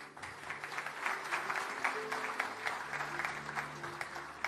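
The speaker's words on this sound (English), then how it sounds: "definitely deserve a second round of applause" Audience applause at a statue unveiling ceremony for Chhatrapati Shivaji Maharaj in Mauritius, a fairly faint, even spread of many hands clapping with a low murmur and tonal hum beneath.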